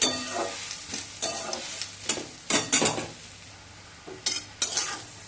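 Papaya and potato curry for Bengali kurono pepe ghonto being stirred in a pan, a spatula scraping in several short bursts over a soft sizzle, close and fairly quiet with pauses between strokes.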